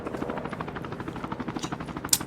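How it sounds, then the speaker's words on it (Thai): A rapid, steady thudding drone of an aircraft in a video game passes nearby, loud and continuous, with a short sharp crack near the end. "มีเครื่องบินอยู่ข้างนอกนะครับ"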